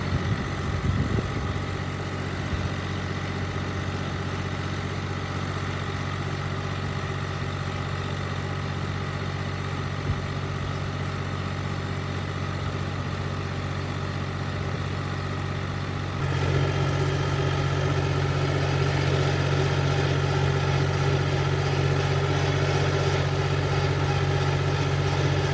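Kubota tractor engine running steadily at a constant pitch during a 4x4 drawbar pulling force test, a droning mid-low hum that shifts to a slightly heavier, louder tone partway through, with no talking.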